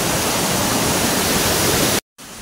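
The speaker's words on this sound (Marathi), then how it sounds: "यो वॉटरफॉल बघा एकदम खतरनाक आहे काय" A hidden waterfall rushes close by, a steady, loud broadband roar for about two seconds that cuts out abruptly, then resumes more faintly.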